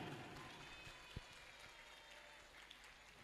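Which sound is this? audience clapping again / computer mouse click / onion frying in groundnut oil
audience clapping again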